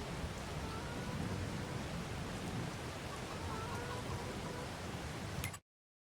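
Steady rain in a farming simulator game, a dense even hiss of falling drops that holds constant with a faint low rumble, then cuts off abruptly.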